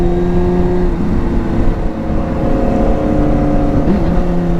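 A Yamaha Fazer 600 motorcycle engine pulls under acceleration with a loud, sustained droning hum whose pitch shifts slightly, mixed with steady wind rush while riding.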